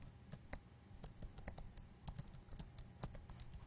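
Fast keystrokes on a computer keyboard as a name is typed, a steady run of light, close clicks at moderate level.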